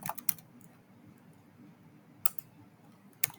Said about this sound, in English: type in the credentials